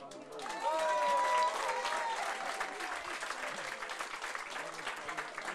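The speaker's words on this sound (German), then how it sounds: "er fängt traditionell mit einem donnernden Applaus an" A TV music show audience at a spring festival gives thunderous applause to open the third part, with dense clapping and crowd cheering, a brief whistle-like tone early on and voices mixed in throughout.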